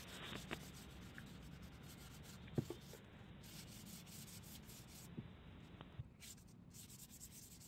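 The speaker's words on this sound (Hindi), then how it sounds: "सैंडिंग करने के लिए हम 220 नंबर या फिर 320 नंबर का वाटरप्रूफ रेगमाल इस्तेमाल करेंगे और अच्छी तरह दबा के लगा देंगे" Waterproof sandpaper of 220 to 320 grit is pressed firmly and rubbed over putty on plywood, giving a soft, steady, faint scraping hiss with a few light knocks.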